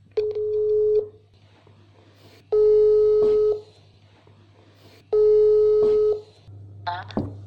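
A telephone sounds three long ringback tones about two seconds apart, each roughly a second long, over a low steady hum, followed by a brief click and a short burst of sound at the end.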